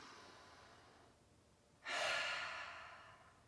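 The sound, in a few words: deep breath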